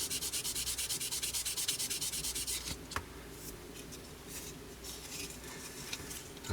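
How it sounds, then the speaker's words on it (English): Sandpaper rubs against the top lip of the air intake on an Italeri 1/48 Hawk T1 plastic model kit. The close, rapid back-and-forth scratching strokes run for about three seconds, then a few softer scattered rubs follow. "we're just going to sand the edge of this"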